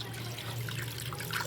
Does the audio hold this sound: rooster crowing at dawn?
no